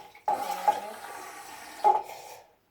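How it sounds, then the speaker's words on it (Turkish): Hot water pours into a container while making gum slime, a steady splashing stream that starts abruptly, swells briefly near the end and then tapers off to silence. "Bu şekilde birazcık daha sıcak su ilave edeceğim."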